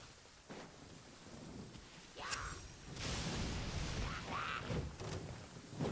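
Rain and a thunderstorm in a video game: a constant hiss of rainfall, with rumbling thunder swelling and booming in the middle and staying loud to the end.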